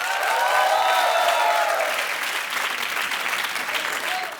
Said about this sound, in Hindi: एक बार जोरदार तालियां हो जाए अजहर की पूरी टीम के लिए